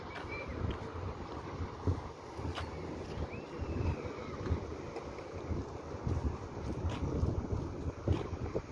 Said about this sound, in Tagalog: Mahangin siya masyado.